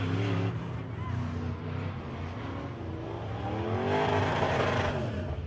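Race cars roar around the speedway track during a track championship event at Lake of the Woods Speedway, steady loud engine drone throughout with rising and falling pitch as cars pass, a race announcer talking over it.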